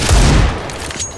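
A single loud, close gunshot boom in Counter-Strike, fading into a short rumbling tail.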